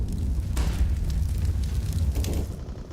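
A Molotov cocktail burns during a competitive Counter-Strike match, giving a steady low roaring crackle of flames with brief flare-ups, loud and continuous throughout.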